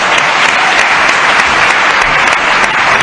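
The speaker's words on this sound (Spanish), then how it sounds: "un aplauso para él." Studio audience applause on a Spanish TV interview show, a loud, dense, continuous roar of clapping that holds an even level from start to end with no voices over it.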